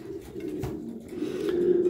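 Pigeons in a loft keep up a continuous low cooing, with several birds overlapping in a warm, steady drone at moderate loudness and no voices over it.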